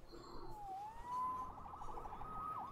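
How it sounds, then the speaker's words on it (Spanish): A police siren wails in Marvel's Spider-Man, a rising and falling tone sounding somewhat distant and moderately loud over background city noise. "Salvado por la sirena."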